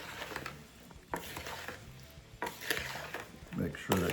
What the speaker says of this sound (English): just get all these berries coated good with the sugar and the cornstarch